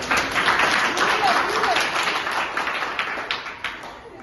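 A crowd claps and applauds steadily throughout, with scattered voices mixed in beneath the dense patter of hands.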